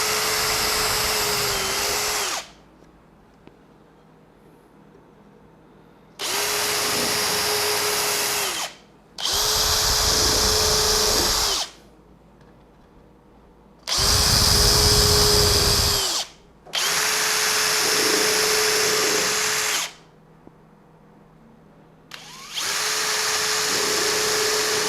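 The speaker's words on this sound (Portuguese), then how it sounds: "Eu vou fazer então primeiro o pré-furo desse travessão mais largo." A power drill bores a pilot hole in the crossbar of a compact Rivertools router table, whining loudly and close in about seven separate bursts of two to three seconds, with short quiet pauses between them.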